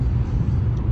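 A car driving, heard as a steady, loud, low road-and-engine rumble from close by with no voices over it.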